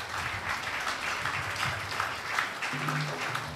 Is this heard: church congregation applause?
yes